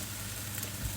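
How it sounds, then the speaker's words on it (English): Patties fry in a hot pan with a soft, continuous sizzle and light crackle, steady and quiet for a brief moment. "I got the patties cooking in here."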